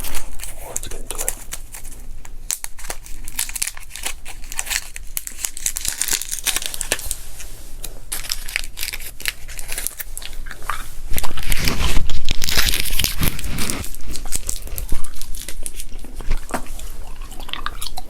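Papery crinkling and brushing strokes of paper advertisement pages run throughout, with a louder rustling burst midway, accompanied by soft gum-chewing sounds and a voice talking over it.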